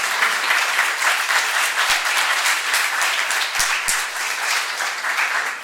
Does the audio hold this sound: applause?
yes